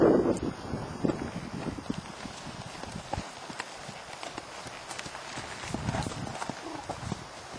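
Horse galloping on a riding track, hooves clip-clopping in a steady rhythm at moderate distance, with voices talking over it and light wind noise.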